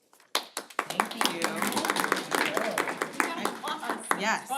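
Scattered hand clapping from a small group at a board meeting, a quick burst of claps near the start and then patter mixed with overlapping talk and chatter in the room.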